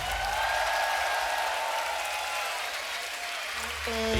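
An audience at a beatbox battle breaks into applause and cheering, a dense wash of clapping that holds steady, with a short electronic tone near the end.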